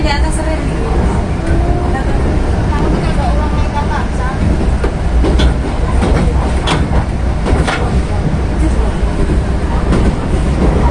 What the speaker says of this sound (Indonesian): Dan ini kereta api Mutiara Timur berjalan langsung stasiun Kalisat